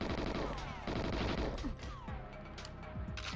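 Rapid gunfire in GoldenEye 007 (XBLA beta) crackles nonstop, dense overlapping shots and bursts filling the whole stretch loudly alongside game sounds.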